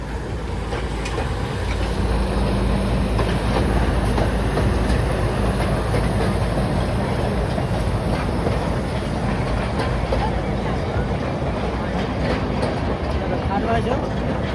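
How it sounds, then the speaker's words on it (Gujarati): The toy train at Kankaria Lake in Ahmedabad rolls along with a steady, low continuous rumble and faint rhythmic rattling, heard from on board or nearby. "તમને કાંકરિયા તળાવમાં જે ટ્રેન આવે છે ને જે તમને આખું કાંકરિયા તળાવ ફરાવે છે"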